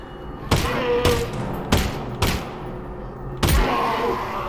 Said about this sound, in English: Nice shooting, Alyx.